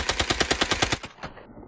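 Rapid automatic fire from an Uzi submachine gun at an outdoor range, a tight burst of about nine loud, evenly spaced shots over roughly one second, then a brief echoing tail and a couple of fainter reports.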